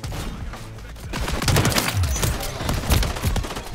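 Dense overlapping gunfire from several players in a Call of Duty match, sharp rapid bursts stacking into a loud fusillade that builds from a moderate opening into heavy continuous shooting.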